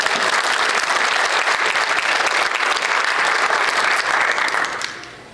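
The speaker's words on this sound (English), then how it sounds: "Let's give them all a round of applause." Sustained, loud crowd applause for the speakers at a regional chamber evening event, a thick even wash of clapping that holds steady for about five seconds before tapering off at the end.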